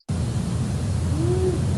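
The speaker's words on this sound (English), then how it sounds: "So this now is just powerful owl calls grouped by similarity." Powerful owl call in a field recording: a single drawn-out low hoot rising slightly in pitch, heard alone over steady broadband background hiss.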